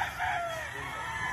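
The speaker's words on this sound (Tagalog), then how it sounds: "Kailangan pakawalan lahat ng manok." Chickens and a rooster on a Philippine farm, with a steady crowing and clucking chorus at moderate distance and no talking.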